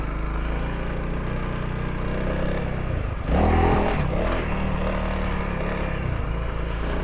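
A Honda CRF300L dual sport motorcycle engine rumbles steadily on a trail, its tone rising and swelling midway as the rider shifts down from third gear, close and continuous with no talk.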